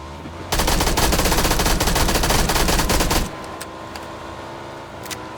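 Automatic gunfire in the PUBG video game: a dense, loud burst of rapid shots lasting about three seconds, followed by a few scattered faint shots.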